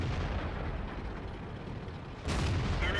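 A tank cannon shot at a T-62A in World of Tanks, fired from a Leopard 1: a sudden loud blast that bursts in near the end after a stretch of low rumbling engine and ambient noise.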